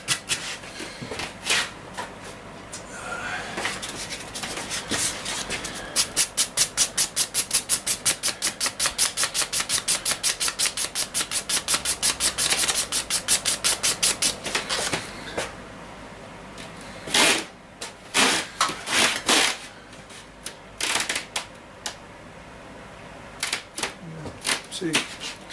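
A mushroom snooker cue tip is worked with 80 grit sandpaper, giving rapid rasping scratches in a long dense run, then slower separate strokes, while someone talks over it.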